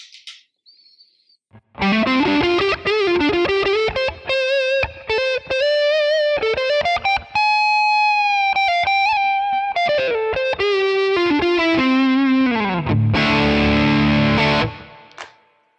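An electric guitar played through the Amalgam OD100 tone model, a Two Rock amp capture, on a Tonex rig rings out distorted single-note melodic lines, loud and sustained, ending in a strummed chord that fades out.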